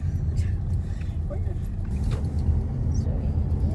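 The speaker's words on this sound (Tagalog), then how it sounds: "I'll show them how traffic is here too." Steady traffic rumble drives the sound of downtown Chicago streets, with continuous low engine and road noise heard from inside or near a moving car, and faint clinks over the dense hum.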